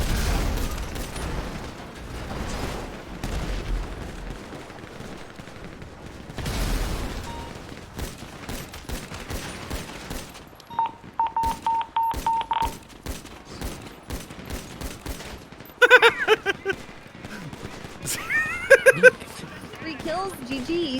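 Rapid AP pistol fire in Grand Theft Auto V comes in dense bursts of sharp cracks mixed with other game gunfire and impacts, heard under excited, shouting talk.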